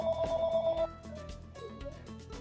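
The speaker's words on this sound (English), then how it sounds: "Sorry, lots of interruptions, and yeah, we have a house phone." A house phone rings indoors with a loud electronic trilling tone for just under a second, then stops, leaving faint household sounds behind it.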